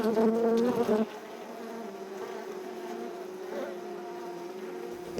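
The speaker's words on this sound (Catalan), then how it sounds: "L'eixida de les abelles i entrar a la colmena es diu trisca, triscar." Bees buzz in a dense, continuous drone as they fly in and out of a traditional wooden beehive, with a louder close buzz at the start, then a steady, evenly humming swarm.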